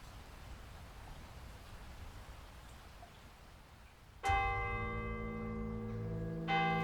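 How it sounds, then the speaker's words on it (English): Church bells ring out in a sudden loud, resonant strike, sustained with a long hum and struck again moments later, after a steady rain-like hiss. "The sound from the bells made Ivanor's ears ring."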